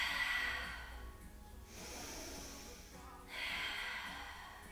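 Slow, audible breaths during a Pilates standing hamstring stretch, legs hip-width apart and hands walking toward the toes; soft airy inhales and exhales come in long swells, close and quiet, with no talking.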